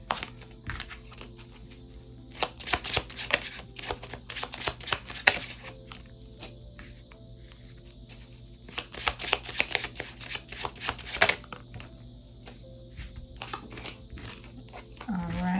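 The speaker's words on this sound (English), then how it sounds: "I'm gonna get all the cards out on the table and then I will start talking." Tarot cards slid, tapped and laid out one after another on a tabletop in a dense, continuous shuffle of close papery flicks and taps lasting several seconds.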